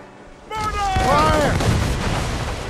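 Cannon fire during a naval battle in Assassin's Creed Rogue, a loud booming onset with rumbling blasts and sustained battle noise, with shouted voices and music over it.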